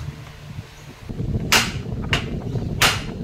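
A hammer strikes the tie rod nut on an Isuzu NL truck during kingpin work, giving three sharp, loud metallic blows spaced about a second apart over a low workshop rumble.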